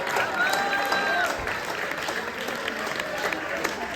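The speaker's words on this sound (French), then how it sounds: "Encore un petit coup d'applaudissement pour Michael s'il vous plaît." A live concert audience at a small venue claps and cheers steadily throughout, with a few whistles rising above the dense applause.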